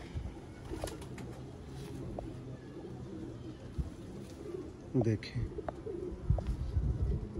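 Rooftop-bred pigeons coo softly at a breeder's loft in Sialkot, low rhythmic calls with occasional chirps and wing flutters, while someone talks over them.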